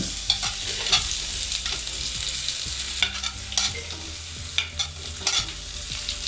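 Onion fries in a pan with garlic for vegetable patties: a close, loud sizzle with repeated scraping and knocking as the pieces are stirred, heard without speech.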